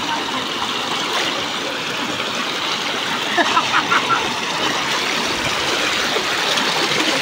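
A flowing stream runs steadily in an outdoor crossing where people wade through the water, a broad continuous rush with a few small splashes and faint voices.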